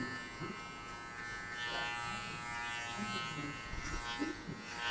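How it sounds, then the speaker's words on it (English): Electric hair clipper cutting hair during a buzzcut, a soft close buzzing hum with faint crackles from the blade passing through hair, varying slightly as it moves, with quiet talk at times. "keep doing it as long you hear the clipper cutting the hair"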